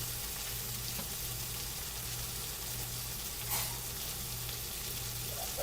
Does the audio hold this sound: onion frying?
yes